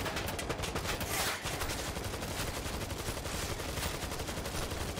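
An automatic turret in World War Z fires steady, rapid bursts of gunfire, a dense continuous rattle of shots with no talk.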